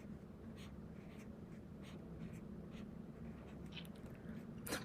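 A pen writing the word apple by hand on paper, faint scratchy strokes in short bursts with small pauses, close and quiet, no talk.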